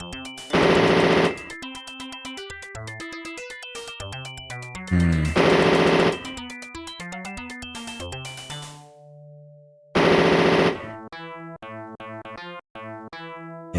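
Video game gunfire from Power DoLLS: loud bursts of rapid machine-gun fire in three separate volleys, set against busy tonal game music and effects.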